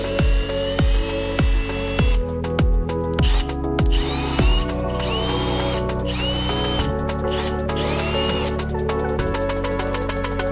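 A power drill bores 3mm holes into a Milwaukee Packout plastic box, loud close bursts of whirring that start and stop in quick succession before settling into a longer steady whine.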